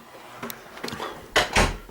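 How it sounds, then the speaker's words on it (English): A key rattles in a lock, then a door swings and clicks shut with two firm, close knocks at the end, without any slam. "it's a clicking door, not a slamming door, that's good"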